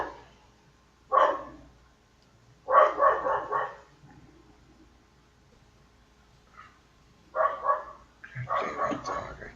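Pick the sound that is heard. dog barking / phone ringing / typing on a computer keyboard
dog barking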